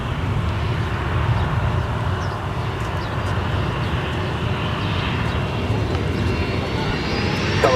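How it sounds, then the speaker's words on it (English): A Boeing 737 airliner touching down on runway 17 at Minneapolis–St. Paul Airport, heard as a loud, steady broadband engine and rushing roar from nearby with no pause throughout. "737 landing I've ever seen"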